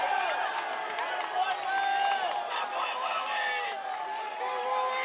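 Home crowd at a Lipscomb men's soccer match against Belmont roars and cheers steadily in a packed stadium, with an announcer talking over the noise.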